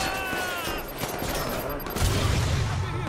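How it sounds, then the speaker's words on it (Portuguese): Gunfire from the video game Watch Dogs 2 comes as a dense burst of rapid shots and impacts, with a sharp rise into heavier booming blasts partway through, all loud and close. "Tiro de tudo quanto é lá."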